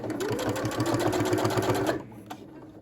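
A sewing machine stitches scrunchie fabric in a steady rapid run for about two seconds, then stops abruptly and leaves quiet handling noise.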